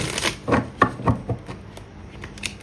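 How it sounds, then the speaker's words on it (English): Tarot cards are shuffled up close in a series of quick, crisp riffling bursts with short pauses between them, and no voice is heard. "I'm just going to shuffle them one more time."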